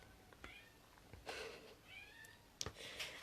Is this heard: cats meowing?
yes